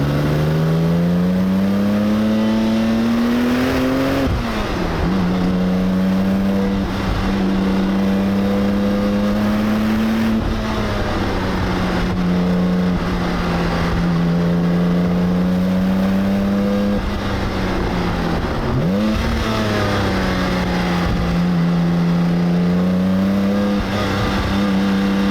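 A Porsche 911 996 GT2 engine pulls hard under acceleration while driving, its loud, steady drone climbing in pitch through the gears with brief dips at shifts, close and continuous throughout.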